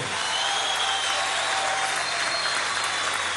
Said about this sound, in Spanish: Vamos a darle un aplauso al equipo de la Dirección Nacional de la JPSUV.